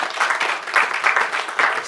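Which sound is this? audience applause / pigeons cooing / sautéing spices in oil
audience applause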